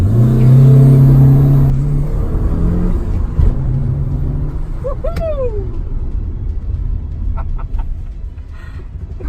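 A Mitsubishi Lancer Evolution IV engine rumbles and revs while driving, loud and close with a steady low drone, a brief rising whine midway, and a few faint chirps near the end.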